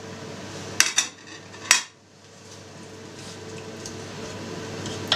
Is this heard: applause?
no